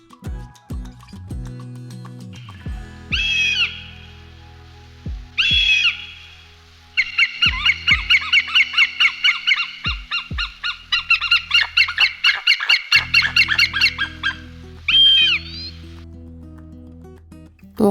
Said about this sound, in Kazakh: Қаршыға